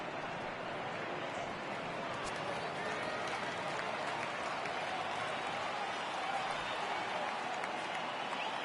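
Stadium crowd in the baseball video game MLB The Show 18 rising on a full count, a dense, steady roar of cheering and applause filling the whole stretch.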